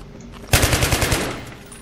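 A heavy machine gun in Battlefield 3 fires a rapid burst of about eight loud shots, close and punchy, then the sound fades into reverberant tail with no talk over it.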